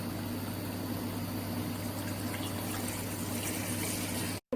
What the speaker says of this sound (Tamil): இதில் வந்து பால் ஆட் பண்ணிக்கலாம்